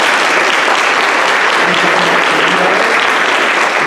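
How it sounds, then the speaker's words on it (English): Audience applause for distinguished board members at a civic day event, a dense, loud burst of clapping that continues steadily throughout. "round of applause for our distinguished"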